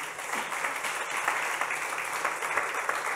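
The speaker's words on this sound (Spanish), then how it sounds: "Démosle un aplauso al Señor." A church congregation applauds during a Spanish-language Sunday service, a steady dense wash of many hands clapping together that holds at an even level throughout.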